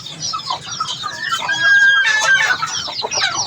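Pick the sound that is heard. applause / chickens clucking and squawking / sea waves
chickens clucking and squawking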